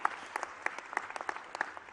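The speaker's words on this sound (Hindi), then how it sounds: "ताली बजाओ तो दिल खोल के बजाओ" An audience claps at the My Youth-My Pride Conclave at Brilliant Convention Centre in Indore, giving a steady burst of many close, crisp hand claps over a short stretch, with no talking.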